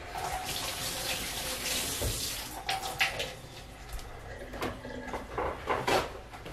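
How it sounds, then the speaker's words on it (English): Kitchen tap water runs steadily while hands are rinsed during scrambled egg preparation. It makes a continuous close splashing rush with a few light knocks and clatters, and no voices. "just rinsing my hands real quick"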